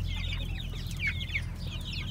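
Sontol Peela aseel chickens cluck and chatter softly close by, with several overlapping short calls over a low steady background hum.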